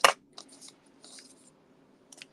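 Snips cut paper for a stained glass project, with a sharp first snip followed by a few faint, quick cuts, close by with no talking.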